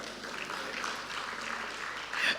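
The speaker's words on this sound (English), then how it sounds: "Ladies and gentlemen, please put your hands together for him." Audience clapping steadily for a guest at a stakeholders' policy validation session, a dense, even wash of hands throughout at moderate level, swelling slightly near the end.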